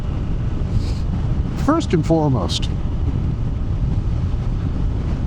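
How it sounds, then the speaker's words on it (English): Steady low wind buffeting on an open-road ride aboard a Moto Guzzi V85TT motorcycle, a constant rumbling roar throughout with a brief spoken phrase partway through. "It's windy is what I'm saying."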